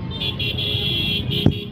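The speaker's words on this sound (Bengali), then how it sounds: "তো দেখতেই পাচ্ছেন আজকে কি পরিমাণ জ্যাম।" Car horns toot in short, repeated blasts amid the steady hum of a traffic jam in front of a railway station, fairly close, with a brief thump near the end.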